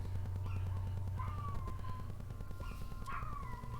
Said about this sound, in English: I can hear my neighbor's dogs going crazy